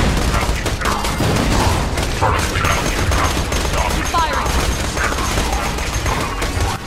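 Video game gunfire in Borderlands 2 is loud and continuous, with rapid shots and mechanical clatter layered over a dense rumbling game soundtrack for several seconds.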